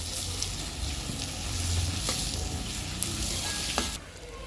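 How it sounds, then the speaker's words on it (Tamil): Spices such as star anise, cinnamon and cloves sautéing with small onions in hot oil for a goat intestine and lung curry, a dense continuous sizzle up close with faint utensil clicks, easing off near the end. "எண்ணெய் ஊற்றிட்டு அன்னாச்சிப்பூ பட்டை லவங்கெல்லாம் போட்டு நல்லா வதக்கிக்கலாம்."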